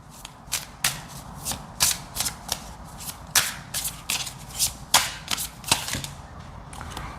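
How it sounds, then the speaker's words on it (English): Tarot cards being shuffled, a rapid series of crisp riffling snaps repeating at an uneven rhythm, close and fairly quiet with no voices. "all of these cards are sliding out of the bottom"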